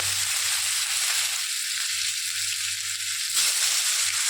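Tomato dropped into a hot wok of oil tempered with nigella seeds and dried red chilli, for an eggplant dish, giving a steady close sizzle that dips briefly and swells again, with no talking.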